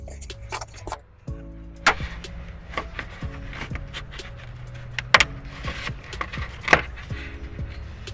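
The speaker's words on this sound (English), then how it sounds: "I'm going to use a trim tool to take off a little plastic piece here and a little plastic piece here" Small plastic trim pieces pried loose with a trim tool inside a 2014 Subaru Outback, giving scattered sharp clicks and snaps with faint rattles and handling noises in between, close and fairly quiet.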